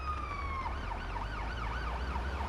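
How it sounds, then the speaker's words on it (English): The Ottawa ambulance siren in the video game Ambulance Life starts with a steady tone, then switches to a rapid rising-and-falling yelp that repeats over a low engine rumble, all at moderate volume with no talk. "We are using the Ottawa siren, is what we're using."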